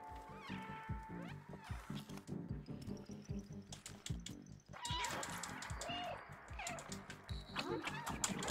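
A cat in the video game Stray meows over and over in rapid succession, loud and close, with music and game sounds underneath and someone talking at times.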